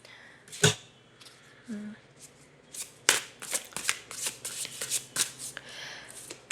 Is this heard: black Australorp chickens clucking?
no